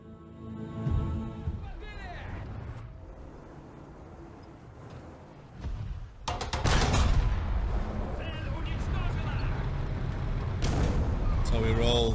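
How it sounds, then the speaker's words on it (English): Heavy 122mm cannon blasts from an IS-2 tank in War Thunder boom out loud and broad, several shots spread over the stretch with a rumbling battle din, while a voice talks over the gunfire. "The 122mm cannon is an absolute powerhouse, but that reload time is brutal"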